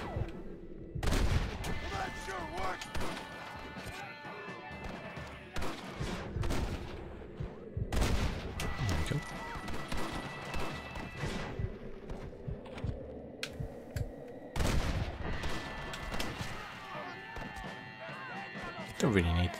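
Rifle shots fired in the Western video game Red Dead Redemption, several sharp loud bursts spaced through the scene with game ambience between, while a soft-spoken voice talks quietly over it.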